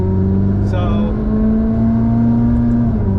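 A Ferrari 430 Scuderia engine revs steadily in a loud, sustained drone with a strong engine tone throughout, heard up close under someone talking.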